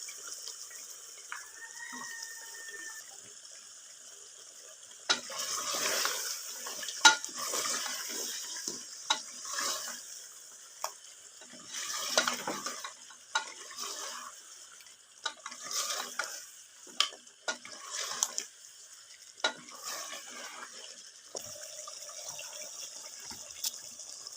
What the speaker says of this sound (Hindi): अब हम इसमें पाई डाल के इसको भूनेंगे अच्छी तरह